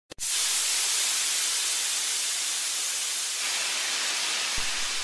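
A loud, continuous hiss of steam that starts abruptly and holds steady for several seconds, broadband and unbroken.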